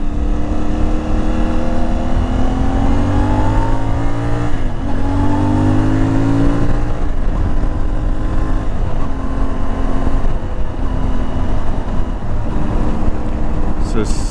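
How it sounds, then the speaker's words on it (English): An IBEX 450 single-cylinder motorcycle cruises in sixth gear around 4,000 rpm, its steady exhaust drone shifting in pitch under heavy wind noise, with a rider talking over it. "Favorite thing about this bike is the exhaust tone so far."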